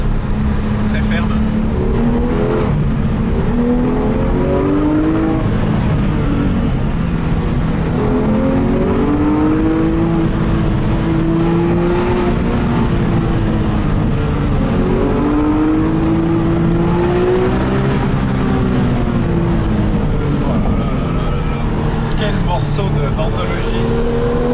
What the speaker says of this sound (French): C'est un vrai monument ce moteur.